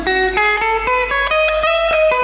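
A clean Enya Inspire electric guitar on its neck pickup plays a quick run of plucked single notes, bright and clear with a slight ring, no distortion.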